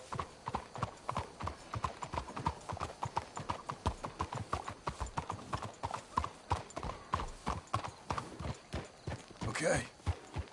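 Horse hooves clip-clop steadily in Red Dead Redemption 2, a brisk rhythmic trot of several horses up close, with a brief whinny near the end and a voice speaking over the hoofbeats.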